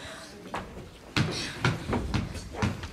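Sharp, loud knocks on a door in a stage play: about five separate raps spaced roughly half a second apart, with faint background murmur beneath them.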